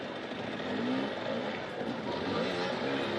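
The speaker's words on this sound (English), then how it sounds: "Paul Torres revving that bike. Just look at the acceleration from him" An offroad racing motorcycle at an enduro event revs and accelerates in a continuous loud engine roar that rises and falls slightly for about three seconds, with crowd or announcer noise mixed in.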